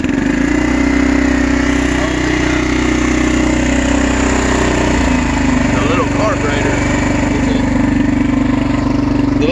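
Cheap used Suzuki four-wheeler ATV with a sticky carburetor running, a loud, steady buzzing small engine idle that drones on close by, with a brief dip and shift in pitch around midway.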